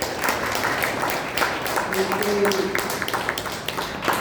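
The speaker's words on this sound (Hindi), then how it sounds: "हम भटनागर जी के लिए जोरदार ताली बजाएं।" An audience at a religious discourse on Maharshi Dayanand Saraswati gives steady, moderately quiet applause, a dense patter of many hands continuing throughout with a faint tone underneath.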